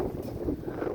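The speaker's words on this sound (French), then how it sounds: "le vent il est fort ou quoi là?" Strong wind blowing outdoors ahead of a rain and thunderstorm, a loud, continuous low roar buffeting the microphone for the whole moment, with no speech.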